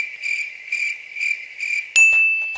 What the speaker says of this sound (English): You know the cricket sound that comes?